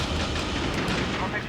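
A Y-Wing proton bomb explosion in Star Wars Rogue Leader, heard as a continuous loud roar of blasts and rumble layered under busy battle noise and speech.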